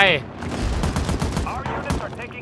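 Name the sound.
gunfire from guns in a free online shooting video game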